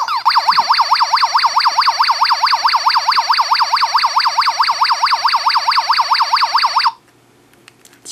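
Space Invaders LCD handheld game blaring a loud, rapidly warbling electronic tone that repeats steadily like a siren for several seconds, then cuts off abruptly into near silence.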